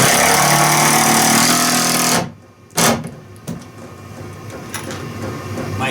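A power drill drives a screw into a wooden shed door, whirring loudly for about two seconds before cutting off, followed by a few short sharp knocks and a quieter background.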